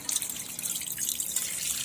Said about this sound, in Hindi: अब इसमें हम और पानी डालेंगे,